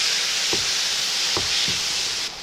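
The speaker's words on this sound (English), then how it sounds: "we will add 1 cup of tomatoes" Tomatoes tipped into a hot pan with turmeric and coriander powder, a steady bright sizzle with a few soft clunks of stirring, close and constant before cutting off near the end.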